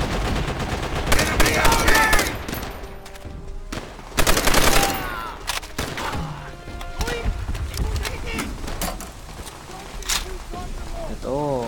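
Machine gun fire rattles in rapid bursts during a Call of Duty battle, loud and close at first and then scattered further off, with soldiers shouting and talking between the volleys.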